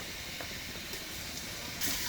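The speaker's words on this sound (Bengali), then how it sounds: "এখন দিয়ে দিচ্ছি পেঁয়াজ, বেশি করে পেঁয়াজটা দিই" Onions added to hot oil for goat trotter nihari give a steady, broad sizzling hiss, faint and even, swelling slightly near the end.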